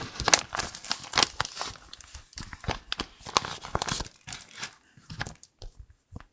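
Paper surprise packets from a Lala Fan-Fan duckling collection being opened by hand: close, repeated crinkling and tearing of paper in short bursts with brief pauses, and no talking.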